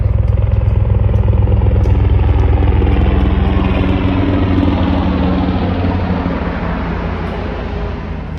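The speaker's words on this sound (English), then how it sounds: "that's the lowest helicopter right above my head I've seen fly over here" A helicopter flies low directly overhead with a loud, throbbing rotor chop. It is strongest at first, then slowly fades as it moves away, with no talking.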